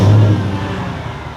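Car with a muffler delete and quad exhaust tips, a loud, close, deep exhaust rumble that starts strong and settles into a rough idle.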